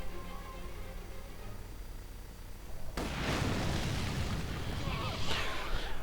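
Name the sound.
incendiary artillery barrage fire in Company of Heroes 2 video game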